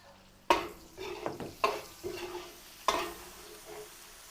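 Garlic and onion sauté in a pan with a soft, steady sizzle, broken by several clattering spatula strokes and scrapes against the pan, close by and with no talking.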